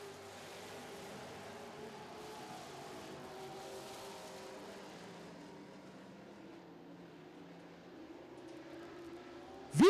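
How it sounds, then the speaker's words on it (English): Super stock race cars roar past on a short track during a feature race, a continuous distant engine drone that swells and fades, with no talk. "Veert storms by the 55 car."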